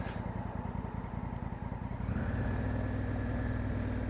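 A Honda Africa Twin DCT motorcycle on the move, its engine a steady low pulsing drone that rises into a fuller, smoother roar midway, heard close with no speech.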